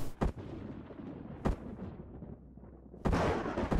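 Gunfire from a minigun in the Empyrion survival video game, a few sharp bursts with a sustained heavy burst of fire toward the end, loud over a low background rumble.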